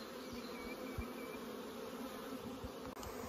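A honeybee swarm gives a continuous, even buzz of many wings, steady and fairly soft with no voices over it.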